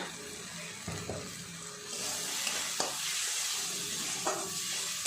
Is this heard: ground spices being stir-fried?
yes